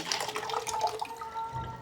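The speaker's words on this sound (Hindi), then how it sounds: "आलू वगैरह अच्छी तरह धो लेते हैं" Water runs and splashes from a tap as potatoes are washed in a kitchen, uneven splattering and trickling at close range with brief drips, tapering toward a low rumble at the end.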